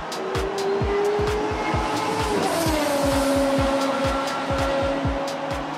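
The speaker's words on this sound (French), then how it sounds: "Ils font monter leur moteur et se préparent pour la course." Cartoon race cars on a racetrack rev their engines loudly, a rapid stream of throbbing engine pulses with rising whines and tire squeal, close and continuous with no talk.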